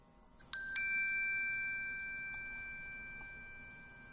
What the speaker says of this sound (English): we have everything we need set up to play back our bell.wave audio file as soon as we hit run